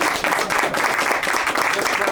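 Loud, sustained applause from the audience at a panel discussion on the autonomic nervous system, a thick continuous patter of many hands with some crowd noise mixed in.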